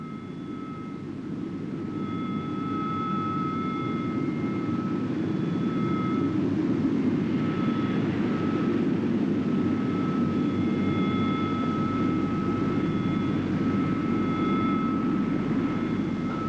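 Warplanes roar steadily overhead during an attack, heard from a frigate in Falkland Sound, a loud sustained engine drone with whining tones layered on top and no voices.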